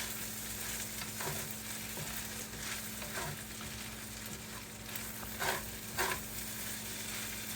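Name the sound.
food frying in olive oil in a wok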